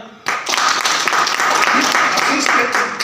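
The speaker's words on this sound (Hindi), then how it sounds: "वेरी गुड, जोरदार तालियां।" An audience at a talk on financial freedom and farming bursts into loud applause, dense clapping that starts suddenly and holds steady close by, with a voice briefly heard beforehand.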